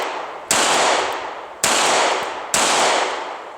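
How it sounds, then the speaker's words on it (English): Three sharp, loud gunshots from a Smith & Wesson Airweight 640 snub-nose revolver, fired at an even pace about a second apart, each with a broad ringing decay, no talking between them. "So the last gun that we're going to shoot here, Airweight, Smith & Wesson Airweight 640."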